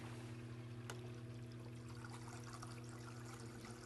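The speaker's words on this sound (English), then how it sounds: "make sure that you get the water flow even across your entire stone" Water runs over a fountain stone in a soft, steady trickle close by, a faint, even wash of flowing liquid that holds without a break, with no one talking.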